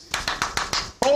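Hand claps from the Friends theme song: four or five sharp, evenly spaced claps at close range, then a voice begins speaking.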